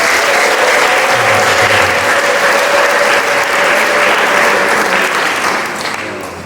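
A church congregation at a morning service breaks into loud, sustained applause, dense and continuous clapping from a large crowd that tapers slightly at the end.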